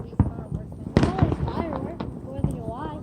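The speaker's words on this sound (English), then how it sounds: "that's the fireworks." Fourth of July fireworks bursting in a series of sharp bangs and crackles, some close and loud, with people talking and reacting throughout.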